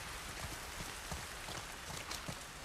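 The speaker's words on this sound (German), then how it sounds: "Der Regen ist so laut." Steady rain falls in The Last of Us: Left Behind, a dense continuous hiss with scattered drop patter throughout, fairly quiet and with no voices over it.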